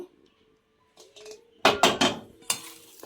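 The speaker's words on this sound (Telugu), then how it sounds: "ఆయిల్ కూడా వేసుకొని బాగా కలుపుకుందాం" Chicken pakoda batter being mixed with a spoon in a bowl after oil goes in, a few quick scraping, clinking strokes against the bowl that grow louder toward the end.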